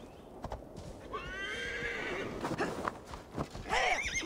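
Horse in Assassin's Creed Valhalla neighing with a long, wavering whinny mid-clip, hooves clopping through a steady game ambience, and a second sharp whinny near the end.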